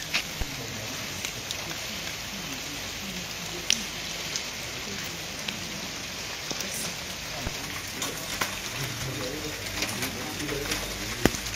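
A steady wash of rain patters on surfaces over a dispersing crowd, with occasional louder drips and faint voices in the background.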